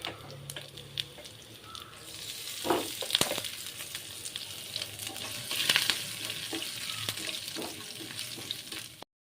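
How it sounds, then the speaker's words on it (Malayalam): Mustard seeds splutter in hot oil for a bitter gourd tamarind curry, crackling and sizzling steadily, with sharp pops and spits bursting through now and then, close up and fairly loud, with no voices. "കടുക് പൊട്ടിച്ച് അതിൻ്റെ അകത്തോട്ട് വീട്ടാം"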